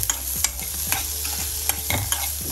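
Radish and urad dal sauté in refined oil, with a steady sizzle and repeated scraping strokes of a spatula across the pan, close and continuous.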